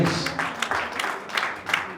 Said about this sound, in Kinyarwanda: mureke kumukomera amashyi menshi cyane